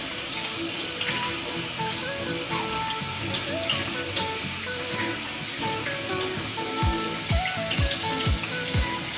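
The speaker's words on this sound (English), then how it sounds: "after washing it with soap, we are now going to rinse off the soap" Water runs from a faucet over hands rinsing off soap, a steady close splashing stream with irregular drips and spatters.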